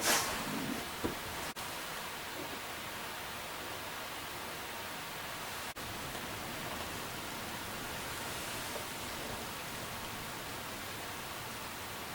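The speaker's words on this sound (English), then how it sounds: "That light rain showers continue." Steady soft hiss of light rain falling, even and continuous throughout, with no voices.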